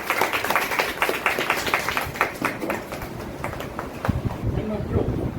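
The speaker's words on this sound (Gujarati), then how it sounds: "તાળીઓથી વધારી દેશો" Audience applause at an event honouring a woman from Porbandar, Gujarat, a dense, steady patter of many hands clapping throughout, with a voice speaking over it near the end.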